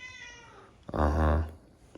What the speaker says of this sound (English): He's mad the other cat's eating his food.